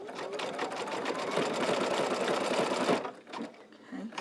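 An embroidery sewing machine stitches a chenille shamrock, a rapid, loud, close mechanical chatter that runs steadily for about three seconds, then stops, leaving a few quieter clicks.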